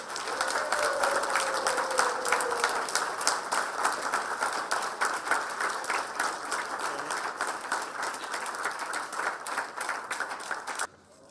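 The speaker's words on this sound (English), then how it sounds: "Let's have a real round of applause." An audience at a hotel opening ceremony gives a sustained round of applause, steady clapping at moderate volume lasting about eleven seconds before cutting off abruptly.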